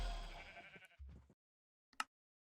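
A single sheep bleats in Minecraft, a short wavering cry that trails off, followed a moment later by a brief sharp click in near silence.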